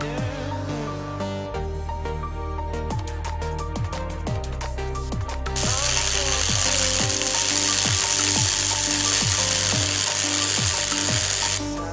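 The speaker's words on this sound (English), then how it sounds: "I used a few clamps and then proceeded to screw it all down." Power screwdriver driving screws into a steel ramp, a whirring motor with ratcheting clicks, run in repeated bursts, close and steady, with a louder hissing stretch partway through.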